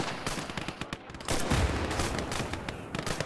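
Rapid gunfire in the World War II strategy video game Call to Arms, with dense overlapping shots and bursts of automatic fire, loud and continuous throughout.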